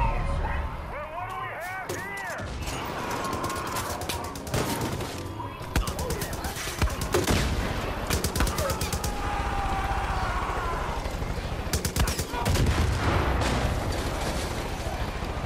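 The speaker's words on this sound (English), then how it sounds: "Ended up turning into a quick and crazy shootout." Gunfire in a Far Cry 5 shootout, dense bursts of rapid shots and heavy blasts layered over a constant din, with a voice talking over parts of it.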